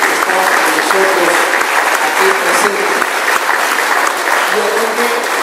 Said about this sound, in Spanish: Un fuerte aplauso para el Instituto Municipal de la Mujer